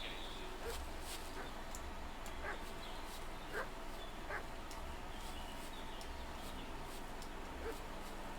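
A dog barks and yips at a distance in the video game Kingdom Come Deliverance II, a few faint barks spaced over a steady outdoor ambient background.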